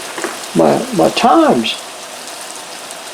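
Food fries in hot oil and is flipped with little chopsticks, a soft continuous sizzle running underneath as someone speaks briefly.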